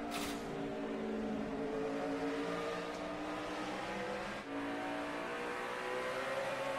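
A NASCAR stock car with a tire down comes onto pit road during the 2008 Food City 500, its engine roar loud and continuous, with other cars droning alongside.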